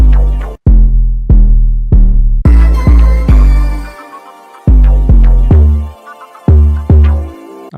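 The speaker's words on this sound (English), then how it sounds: "let's just solo the 808 with the music." A deep, booming 808 bass plays a sliding, decaying pattern of notes alongside a melodic beat, loud and up front with brief gaps between hits.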